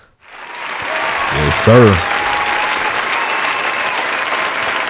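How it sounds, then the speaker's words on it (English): A crowd breaks into sustained applause that rises and holds steady, with a man's short remark heard over the clapping near the start. "Appreciate round of applause."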